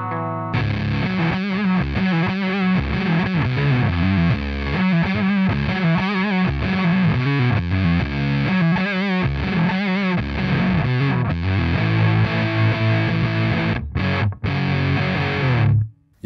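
Electric guitar through a Dunlop MXR Band of Gypsys fuzz pedal, miked with a Shure SM57, playing a thick, saturated riff that stays loud and steady for about sixteen seconds, with two brief dropouts near the end.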